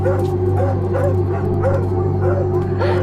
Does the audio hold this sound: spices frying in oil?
no